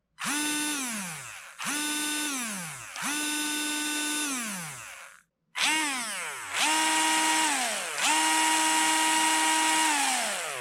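Small torque-tuned 370-size electric motor in a Tamiya Dancing Rider T3-01 RC model revving in several bursts, high whine rising then winding down between runs, with a short pause before longer, stronger spins.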